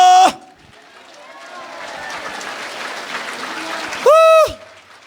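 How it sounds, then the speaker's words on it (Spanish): Applause from a church congregation, a steady broad wash of clapping lasting several seconds, framed by a brief loud tone at the start and a whistling, sweeping tone near the end. "Fuerte aplausos a Cristo."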